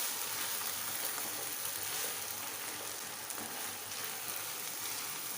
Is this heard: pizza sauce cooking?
yes